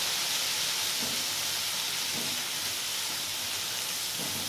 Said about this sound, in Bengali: এবার আমি মশলাটা একটু কষিয়ে নেব।